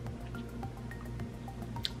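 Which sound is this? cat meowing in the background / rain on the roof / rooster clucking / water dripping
water dripping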